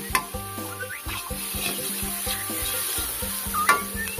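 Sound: stir-frying dried roasted chilies in a wok

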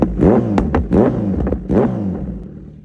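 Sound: Kawasaki Z900 motorcycle engine revving

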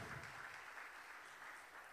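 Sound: applause for the Vice Minister

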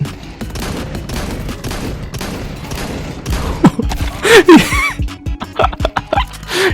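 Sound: gunfire in the video game Counter-Strike 2

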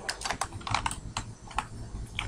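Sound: typing pip install command on computer keyboard

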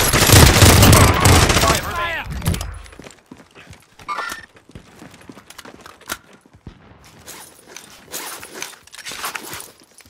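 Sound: gunfire in video game Call of Duty: Modern Warfare

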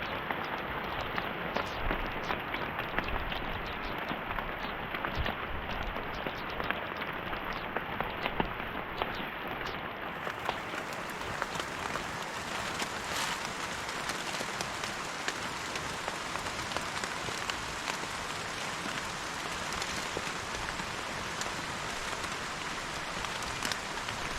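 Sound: rain

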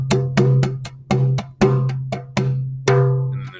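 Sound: djembe bass hit played in the middle

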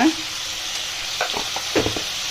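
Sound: ridge gourd frying in oil

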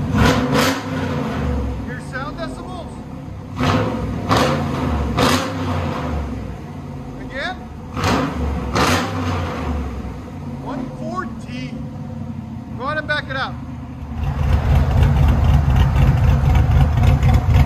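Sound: cammed 5.3L V8 engine, 1984 Chevy C10, true dual exhaust

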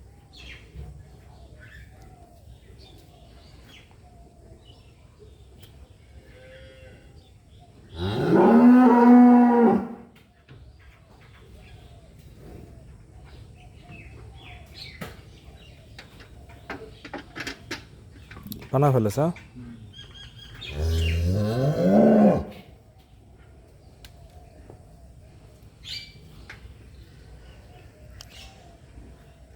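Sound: dairy cows mooing

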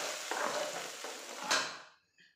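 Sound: stirring tomato puree mixture in pan for chhole

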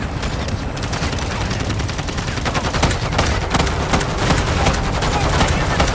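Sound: gunfire in video game Shadow Siege event

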